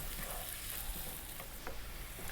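Thai red curry paste sizzles with onions in a pan over medium heat, a steady close frying crackle with soft stirring scrapes throughout.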